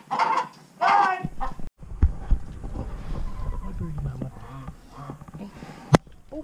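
Broody hens cluck and honk in a barn. Loud close squawks come in bursts at the start, then softer clucking continues under a person talking, with a sharp spike near the end.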